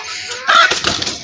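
Chickens cluck in a poultry cage on a small farm, one loud close burst of squawking clucks following a quieter moment, with no talking.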